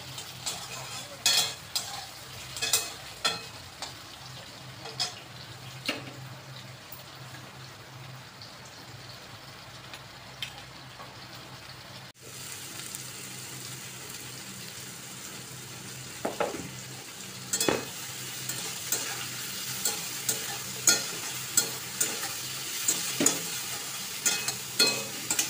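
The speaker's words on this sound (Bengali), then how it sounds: "এরপর লাল লাল করে ভাজা হয়ে গেছে" Lote (Bombay duck) fish frying in a pan, a steady close sizzle broken by frequent clinks and scrapes of a spatula stirring, with a brief pause midway before the frying resumes.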